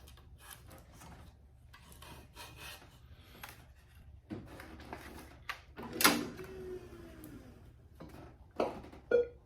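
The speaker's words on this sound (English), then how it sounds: "So I'll just proceed and tension this last cross up here." A Babolat Evolution Tour stringing machine tensions the last cross string on a tennis racquet, giving quiet wooden rubbing and scraping, then a louder rising mechanical pull near the end and a couple of short knocks.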